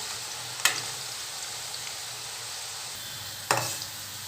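Sliced onions frying in hot oil in a pan make a steady, soft sizzle throughout. Two sharp clatters of stirring break through the sizzle, with no talking.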